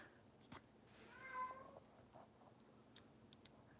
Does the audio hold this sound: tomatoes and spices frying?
no